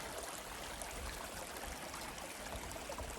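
A forest stream flowing down toward the San Diego River, a faint, steady trickling and rushing of water heard alone throughout.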